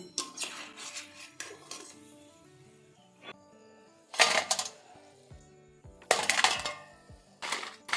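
A metal utensil lifts crisp fried semolina and potato pakoras from hot oil, giving repeated clattering, scraping bursts against the pan, close and fairly loud, with quieter gaps between scoops.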